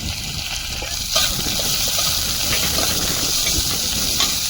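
Panch phoron five-spice, crushed garlic and chopped onion hit hot oil in a kadai for a tengra fish curry with tomato and potato, giving a steady, close broadband hiss with a couple of sharper bursts throughout.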